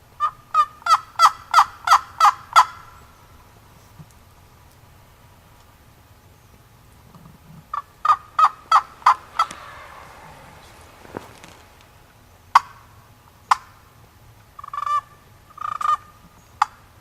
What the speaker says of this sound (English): I just heard one gobble down here.